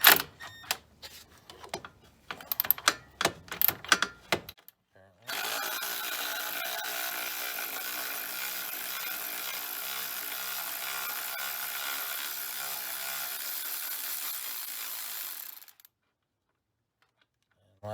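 A Milwaukee power tool removes a sway bar bolt nut on a Town & Country or Grand Caravan minivan. A few seconds of metallic clicks and tool handling are followed by a sustained, loud, even whirr of about ten seconds that stops abruptly.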